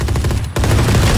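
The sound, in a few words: gunfire in a video game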